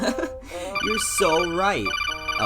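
A phone rings under lively animated speech with sung, pitch-gliding voices, the ringtone's steady tonal pattern running through the middle and end.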